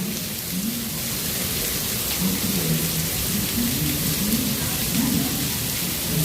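Heavy rain pours down at Epcot in a dense, unbroken hiss, with a faint amplified announcement voice murmuring underneath, barely audible through the downpour.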